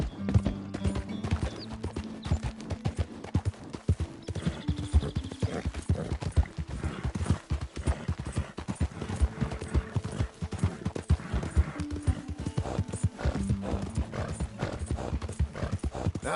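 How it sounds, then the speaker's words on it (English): Horse hooves clip-clop steadily with occasional neighs and whinnies in Red Dead Redemption 2, a continuous close riding rhythm with faint game mechanisms in the background and no talking. "Who's a good horse?"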